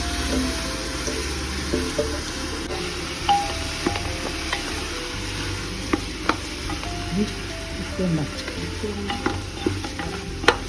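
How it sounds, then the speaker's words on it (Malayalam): Rice and masala being stirred together in a pot for Kashmiri pulao, with a steady gentle sizzle, soft scraping and occasional spoon knocks against the pot. "ഇതെല്ലാം കൂടി നമുക്ക് നല്ലോണം ഇളക്കി മിക്സ് ചെയ്ത് എടുക്കാം"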